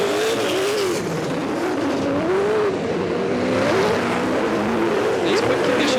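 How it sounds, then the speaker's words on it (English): V8 Supercar race cars, including a Ford Falcon, at Bathurst in wet conditions, with continuous loud engine roar and revving plus tire noise from wheel spin across the whole stretch, no talk. "David Russell, the Shearer Rentals Falcon, still getting wheel spin before the break is over"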